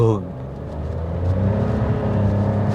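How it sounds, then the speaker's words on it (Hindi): Toyota Raize crossover with a small three-cylinder engine, revving and pulling harder under acceleration; the steady engine drone rises and grows louder over a few seconds, with someone talking throughout. "लेकिन जब आप इस गाड़ी को किक करते हैं एक्सेलरेशन पे"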